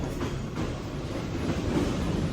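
Steady rumble of a moving train heard from inside an air-conditioned carriage, with continuous broadband noise and a low mechanical drone throughout.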